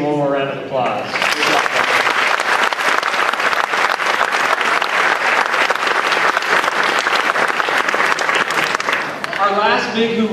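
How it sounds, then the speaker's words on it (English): A school band concert audience for grades 6 through 8 applauds loudly and steadily for about ten seconds, with a voice speaking briefly at the start and end. "Let's give him one more round of applause."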